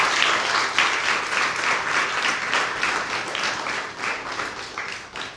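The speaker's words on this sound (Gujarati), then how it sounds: "તો તમને એમ નથી લાગતું કે આપણે પોતાને અને આ વક્તાઓને તાળીઓથી વધાવી લેવા જોઈએ?" An audience at a children's book talk gives the speakers a sustained round of applause, a dense, even wash of many hands clapping that stays loud and steady throughout.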